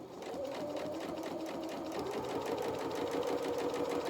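A sewing machine runs steadily, stitching a skirt hem on a doll's dress at a slow, controlled speed, giving a continuous close, even mechanical whir with rapid needle pulses throughout.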